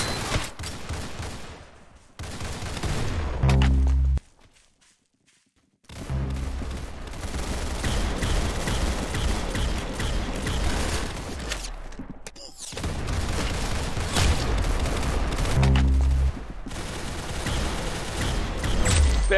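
Gunfire in the Roblox Arsenal shooter game, loud rapid bursts of shots repeating in clusters, broken by a brief near-silent gap, with a voice speaking at times beneath.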